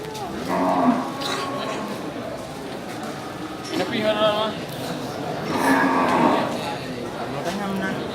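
Cattle, including banteng-breed bulls, low and moo repeatedly amid a busy outdoor livestock market crowd in Sibreh, with people chattering throughout.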